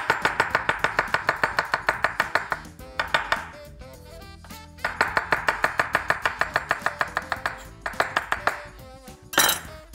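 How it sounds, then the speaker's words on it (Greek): A knife slices garlic cloves into very thin pieces on a board for chili con carne, striking in quick, even rhythmic bursts separated by short pauses. "Έχω 2 σκελίδες σκόρδο που θα τις κόψω και αυτές σε πολύ λεπτές φετούλες"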